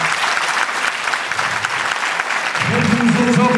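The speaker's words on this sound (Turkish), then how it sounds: "performans gösterdikleri için bir tane daha alkış rica ediyorum" Steady audience applause fills a theatre after a stage play performance by children, continuous dense clapping throughout, joined near the end by a voice speaking over it.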